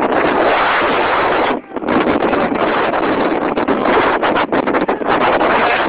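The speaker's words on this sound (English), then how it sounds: "wind's pushing me back" Strong Hurricane Debby winds buffet the microphone at Vilano Beach, Florida, near St. Augustine: a loud, continuous roaring rush with one brief lull, then steady gusting.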